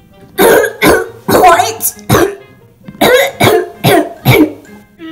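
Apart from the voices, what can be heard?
coughing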